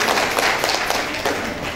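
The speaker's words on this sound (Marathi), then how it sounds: "एकदा जोरदार टाळ्या होऊन जाऊ दे ताईसाठी" An audience claps warmly for the sister at a gathering with games, a short burst of dense, steady applause that holds at one level and fades only slightly near the end.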